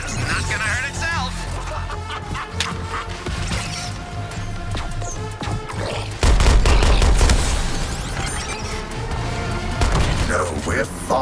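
An alien cannon in the video game Suicide Squad: Kill the Justice League fires a dense barrage, loud rapid blasts and crashes layered with game effects, growing heavier midway, with voices talking over it.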